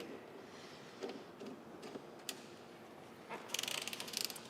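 A hand-turned motorcycle chain breaker and riveter tool clicks and ratchets quietly as it is tightened, with scattered ticks followed by a quick burst of rapid clicking near the end, close and faint.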